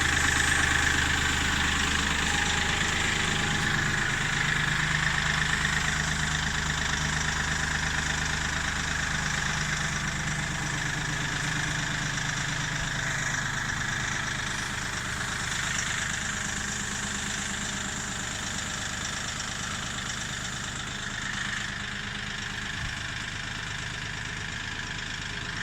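A Kioti CK3510 hydrostatic compact tractor's diesel engine runs at a steady idle, a continuous low mechanical drone with a faint knock that holds at even loudness throughout.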